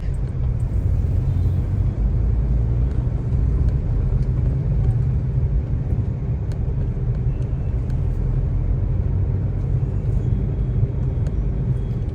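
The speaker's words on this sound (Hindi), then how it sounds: "ये है दोस्तों दिल्ली का ट्रैफिक।" Delhi road traffic near the Ring Road, heard from inside a moving car, makes a steady, loud low rumble of road and engine noise with no talk over it.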